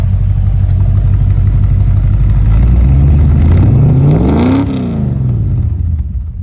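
A custom-built car's engine revs hard with a deep grumble, loud and close, climbing steadily to a peak before dropping back toward idle, with no talk over it.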